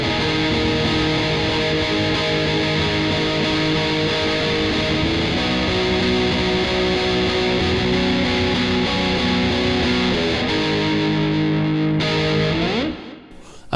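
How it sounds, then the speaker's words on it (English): An electric guitar plays through a Mooer GE150 Max Victory Copper amp with Big Muff distortion in front. Thick, sustained fuzzy chords ring loud and continuous, then drop away into a fading tail at the end. "this is the copper amp with the big muff in front of it. It sounds like this."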